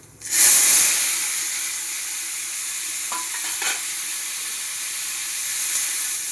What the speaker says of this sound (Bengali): এবার আমি সবজিগুলোকে দিয়ে দেবো।